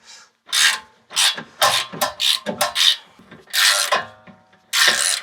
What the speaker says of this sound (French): Allez, dévisse maintenant.